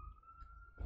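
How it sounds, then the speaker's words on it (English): A distant police siren holds a steady tone, faint and far off, with a brief burst of low noise at the end. "I hear sirens."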